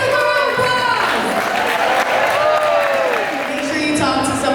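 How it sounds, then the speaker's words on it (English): Big round of applause from an audience at a BET TV show premiere event, a steady wash of clapping and crowd noise lasting several seconds with some voices and cheers mixed in. "Have a big round of applause!"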